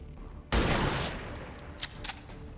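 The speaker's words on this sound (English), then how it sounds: "let's try to shoot the priest." In the turn-based strategy game XCOM 2, a sudden loud burst of gunfire aimed at a priest erupts and rings out into a decaying tail, followed by a couple of faint later hits.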